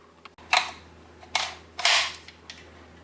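Plastic airsoft UZI MP2A1 magazine being handled and snapped into the gun, giving three sharp, close clicks spaced about a second apart, the last the loudest, with a faint fourth click after, no talking.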